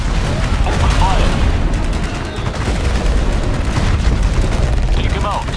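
Gunfire in the real-time strategy game Tempest Rising: dense, continuous rattling shots and booms in a busy battle mix, with clipped unit voice lines under the din.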